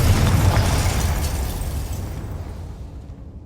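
A Confringo spell blast in the Hogwarts Legacy video game: one loud, broadband explosion with a deep low-end boom at the start, then a long rumbling decay that fades out over a few seconds.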